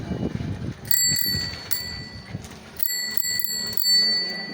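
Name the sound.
bicycle bell ringing on a child's new bicycle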